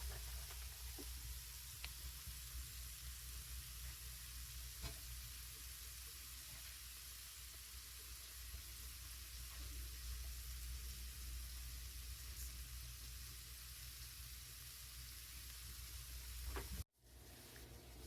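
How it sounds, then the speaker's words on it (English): Bacon and ground beef frying together in a pan give a faint, steady sizzle with scattered tiny pops, running continuously before a brief dropout near the end, with no talk. "The bacon needs to cook a little longer."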